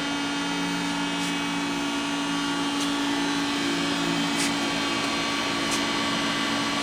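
A Southwestern Industries TRAK 1630HS-SX CNC flat bed lathe runs under power with a steady, even motor and spindle whine and a few faint ticks, constant and close throughout.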